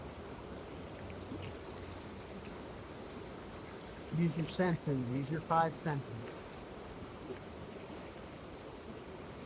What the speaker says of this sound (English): I'm just looking at the water rushing by